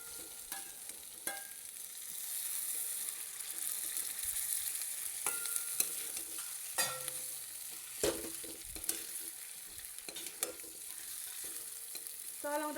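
Fried chicken stirred into cooking masala in a wok, a steady sizzle with irregular scrapes and clanks of the utensil against the metal, close and moderately loud, with no talking.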